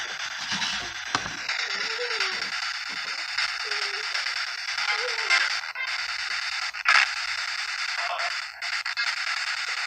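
Harsh radio static hisses continuously while a ghost box radio sweeps rapidly through frequencies, producing choppy crackles and brief blips of garbled sound fragments throughout.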